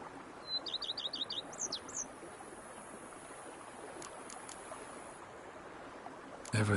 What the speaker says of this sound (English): bees buzzing, birds chirping